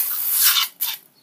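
Fake snow sprayed from a small aerosol can gives a loud, close hiss, then a brief pause and a second shorter burst.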